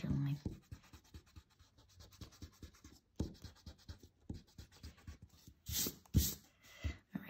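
A pencil eraser rubs out a line on a paper drawing, heard as a quiet close scratching in quick back-and-forth strokes with a few brief pauses and light taps.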